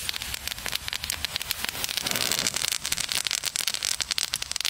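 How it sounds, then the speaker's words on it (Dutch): Small crackling firecrackers, China Red flashbacks with a little flame, going off outdoors as a dense, continuous stream of sharp snapping pops that keeps going for several seconds at steady loudness. "Het zijn dus een soort knetterrotjes volgens mij met een klein vlammetje eraan."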